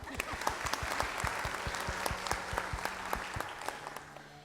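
A small, distant group claps at an ambassador coronation ceremony: a quiet, steady stream of separate hand claps with a fairly even rhythm, with no cheering.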